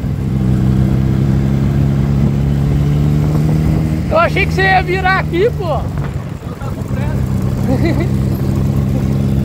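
A 2013 Kawasaki Z1000 motorcycle engine hums steadily while being ridden, a constant mid-pitched drone that runs throughout as someone speaks briefly over it partway through.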